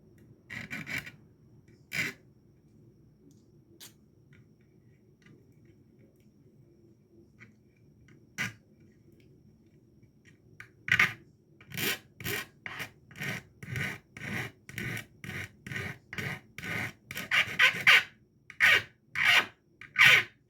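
A hand file rasps against a workpiece, first in a few scattered strokes, then in a fast, regular run of close, loud back-and-forth strokes.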